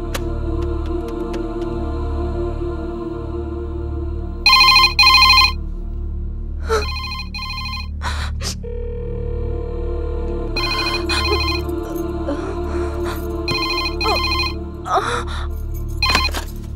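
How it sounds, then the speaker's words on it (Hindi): A telephone rings in repeated bursts, each ring separated by short pauses, over a steady low background hum. "फोन क्यों उठो नहीं"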